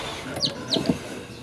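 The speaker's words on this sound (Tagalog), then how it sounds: "i-check ko yung sisiw na tinulungan natin kanina" A newly hatched chicken chick peeping: three short, high, bright peeps in quick succession, close and fairly clear over light background noise.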